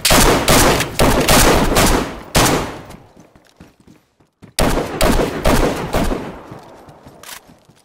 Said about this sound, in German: Ich habe von außen auf ihn geschossen.